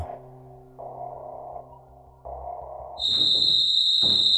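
An alarm in an abandoned building blares into a loud, continuous high-pitched electronic tone partway through, following a lower droning buzz that starts and stops; the piercing tone stays steady and dominant to the end.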